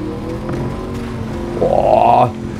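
A car in the Cyberpunk 2077 video game drives with a steady engine drone, then revs up in a rising whine for about half a second before easing back, loud and close.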